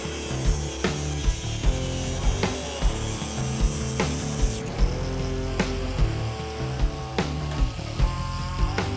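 Car chassis parts are cut in a custom car garage with loud, close, rhythmic rasping strokes that repeat at a steady pace over a constant mechanical drone.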